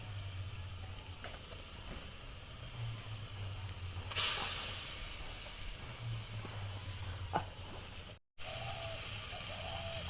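Eggplants cooking in a pan of spiced, salted water give a steady broadband hiss, with a sudden louder burst of steamy sizzle midway, a few small clicks, and a brief near-silent gap near the end; no talking.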